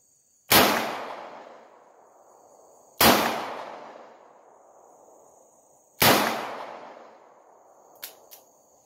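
Three loud, sharp gunshots ring out at a shooting range, evenly spaced about three seconds apart, each with a long echoing decay, followed by a faint metallic click.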